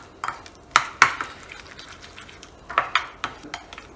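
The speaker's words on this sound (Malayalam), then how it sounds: "ഇനി നമുക്കിതൊന്ന് നന്നായിട്ട് മിക്സ് ചെയ്യാം" A spoon clinking against a bowl while yogurt marinade is mixed with ginger-garlic paste and spices for tandoori chicken, irregular sharp taps in small clusters, close and fairly quiet.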